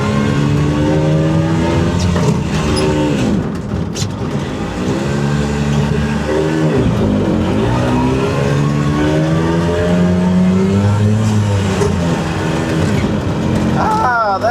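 An old Italian micro van, a barn find parked for twenty years, runs its engine loudly and steadily while the driver works through the gears. The revs rise and fall with each shift, and a voice talks over the engine.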